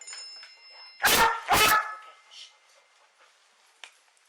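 A police dog lets out two loud, close barks in quick succession inside a quiet house bedroom, followed by faint rustling and a brief sharp tap.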